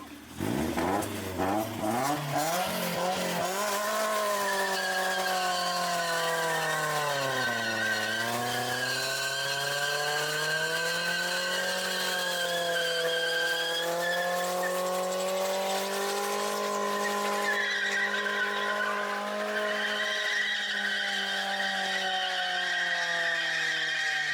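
During a BMW E36 burnout the rear tires squeal in one long, continuous, loud screech while the engine holds high revs and the pitch wavers, close and sustained for over twenty seconds.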